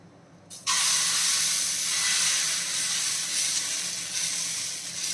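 Adai dosa batter hits a hot, oiled dosa pan over a medium flame and bursts into a loud, steady sizzle that carries on alone after the sudden start.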